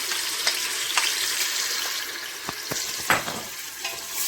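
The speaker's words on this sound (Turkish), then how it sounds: "domateslerimi ve biberimi ilave ediyorum. Önce onları güzel kavuracağım" Tomatoes and peppers sizzle steadily in hot oil, with occasional clicks and scrapes of stirring nearby.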